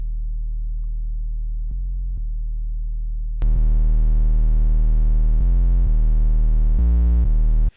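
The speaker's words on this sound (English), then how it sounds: "we're just gonna play all the range full, and then just the distortion" A deep, sustained 808 bass tone, clean at first, then turning buzzy and distorted with rich overtones as it steps through several pitches before cutting off.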